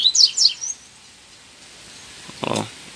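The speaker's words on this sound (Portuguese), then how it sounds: "Quando menos esperava, achei um casalzinho de papacapim." A pair of papacapim seedeaters calls from the bush: a few quick, high chirps at the start, then quiet, followed by a brief burst of rustling or a faint call near the end.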